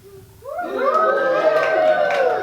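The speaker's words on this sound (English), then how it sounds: "Give us a cheer if you like ice cream." Children in a live family show audience cheer loudly together, a rising chorus of high voices that swells after a quiet start and holds steady, close and full.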